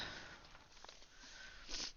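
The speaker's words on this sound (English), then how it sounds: "Sorry, I've got a bit of a sniffle." A person sniffles with a slight cold, a few quick nasal sniffs at close range in a quiet room.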